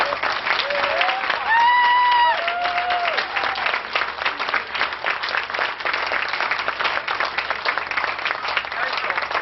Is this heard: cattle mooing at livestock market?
no